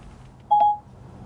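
A single short dialing beep sounds in an Audi's Apple CarPlay system as a phone call is placed, a clean electronic tone about a quarter second long over a quiet background.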